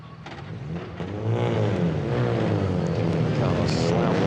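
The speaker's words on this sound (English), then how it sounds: "Cars slam into first gear." Renault Clio Cup race cars pull away in first gear at the Hungaroring. Several engines rise into a loud, continuous rising roar that builds after the first second, under a commentator's talk.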